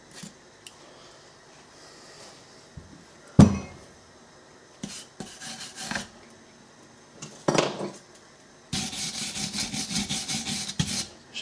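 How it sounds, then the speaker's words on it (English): Sandpaper is rubbed by hand over metal parts of a Myford lathe during cleanup. Scattered short rasping strokes lead into a sustained run of quick, rhythmic scrubbing near the end, with occasional knocks of handled parts. "get the bigger bits off, or bits that you can, just with sandpaper"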